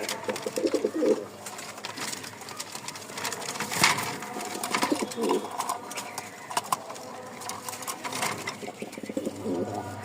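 White pigeons coo in a pen, a male calling in repeated low rolling coos spaced a few seconds apart, close by, with a person talking over them and cage rustling around.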